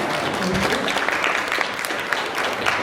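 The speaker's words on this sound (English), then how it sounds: "we can give them a round of applause" Audience applause for team members from an agency at a New Britain event on empowering marginalized families, a steady wash of many hands clapping over nearly three seconds, with a faint voice briefly underneath.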